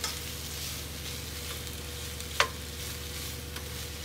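Chicken breast fries in a pan for a Cajun jambalaya pasta, giving a steady, quiet sizzle with one sharp clink partway through.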